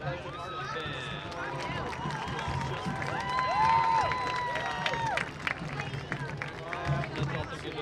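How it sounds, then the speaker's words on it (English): A crowd applauds and cheers in a dense, steady wash for the Oak Hills competitive marching band at a high school football game, with a sustained tone and voices rising through the clapping. "Let's have another round of applause for the Oak Hills Competitive Extended Band"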